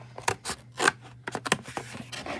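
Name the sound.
scissors cutting a paper plate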